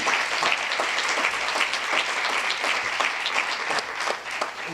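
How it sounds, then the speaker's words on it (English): A room full of people at a Maryland legislative session preview event gives a sustained, even round of applause, loud and close, with no speech over it. "Let's give them a round of applause."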